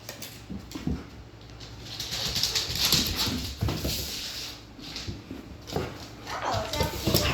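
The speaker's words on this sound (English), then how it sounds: "Our dogs are chasing each other." Two dogs chase each other around the house, giving soft whimpers and scuffling sounds in bursts. People talk over them throughout.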